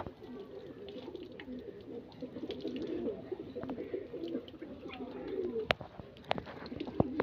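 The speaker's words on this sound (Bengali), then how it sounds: "আড্ডাখানার পায়রাগুলো ওরাও বাইরে বার হতે ব্যস্ত" Pigeons coo continuously inside a loft, a dense overlapping murmur of low throaty calls with occasional wing flaps and sharp taps, close and moderately loud.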